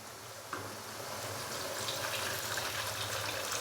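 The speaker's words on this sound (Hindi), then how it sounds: "तो अभी मैं इसके अंदर पानी डाल दूंगा।" Water poured into a pot of sautéed peas, carrots and other vegetables for pulao, a soft splash starting abruptly and then settling into a steady, quiet rushing pour.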